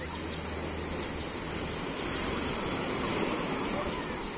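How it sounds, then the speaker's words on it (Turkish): Waves wash in on the rough sea at Yalıçiftlik public beach in Bodrum, a steady, unbroken surf roar with wind buffeting the microphone, and no voices. "Bugün bayağı bir dalgalı ama hava çok güzel yakıyor."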